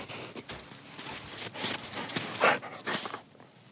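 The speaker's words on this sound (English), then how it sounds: "I'm currently walking around the pond behind my house with my dog, Cody." A dog on a walk around a pond behind a house on a mild day with melting snow, its movement and panting sounding close amid outdoor rustle, with no talking.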